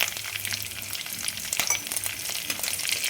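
Dried red chillies and curry leaves fry in hot oil with a steady, close crackling sizzle that runs for about three seconds. Faint stirring scrapes sit under it, and nobody talks.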